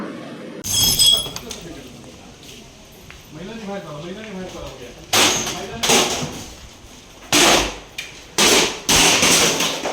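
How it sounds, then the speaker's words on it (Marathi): A public works department office in Malvan is smashed with a wooden stick amid heavy, loud crashes and glass shattering in several bursts, with agitated voices talking and shouting over the damage. "आमदार वैभव नाईक यांनी सार्वजनिक बांधकाम विभागाचे मालवण येथील कार्यालय स्वतःच्या हातात दांडा घेऊन फोडून टाकले"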